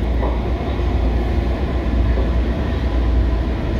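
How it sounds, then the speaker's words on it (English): A Washington Metro train bound for Dulles Airport rolls along with a loud, constant rumble and rail roar heard from inside the car. "Very exciting to be able to take the metro to and from Dulles Airport."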